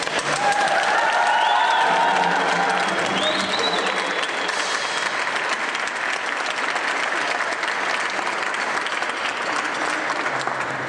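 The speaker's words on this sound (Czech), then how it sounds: "Trochu, kdybychom mohli zatleskat" An audience at a youth schola concert gives sustained applause, a dense, even roar of clapping from many hands that holds steady for about ten seconds, with faint voices briefly audible underneath early on.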